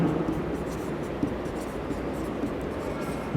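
Pen or chalk writing during a Class 11 biology lesson, a continuous close scratching stroke that runs without a break.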